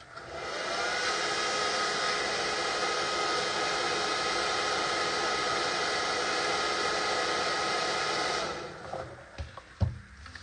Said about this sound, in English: I'll just hit it with the hairdryer real quick.